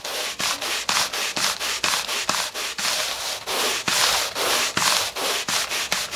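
Stiff spot brush scrubbing a carpet stain after a cleaning solution is applied, a quick run of rhythmic, raspy back-and-forth strokes, close and clear.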